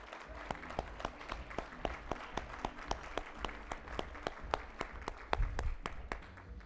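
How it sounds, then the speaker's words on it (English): A crowd at an engineering awards brunch applauds, a steady patter of many hands clapping at moderate distance throughout. "Please give Holly a round of applause."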